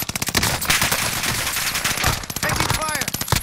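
Rapid automatic gunfire in Call of Duty: Modern Warfare on the Caldera map, loud dense bursts of shots close by that run almost without a break, with brief game sound effects near the end.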